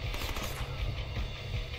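Rapid automatic gunfire rattles continuously in a dense, steady burst, sounding like video game shooting.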